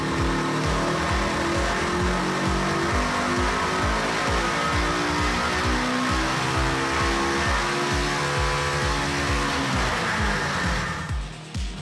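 A stock Polaris RZR XP 1000 engine with stock manifold, exhaust and tune runs on an engine dyno, a loud pulsing drone that rises steadily in pitch through a full-throttle pull before dropping off at the end.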